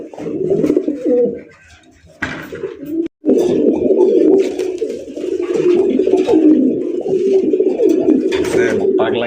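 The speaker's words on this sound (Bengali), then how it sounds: "বাজেট সেরা এক জোড়া কবুতর দেখেন।" A pair of racing pigeons coos in repeated soft, throaty phrases, close by, with voices and other birds mixed in the background throughout.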